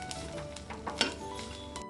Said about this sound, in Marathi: तर तेल गरम झालं, त्याच्यामध्ये कांदा आणि आपण मिरची टाकून घेतली. आता ही परतून घेऊया थोडी.